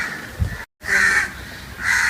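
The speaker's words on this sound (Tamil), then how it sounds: "காக்கா குத்துதா இல்லை கத்துதா அப்படின்னு பார்ப்போம்." Crow cawing in two loud, harsh calls close by, separated by a brief silent gap, with a faint low thump near the start.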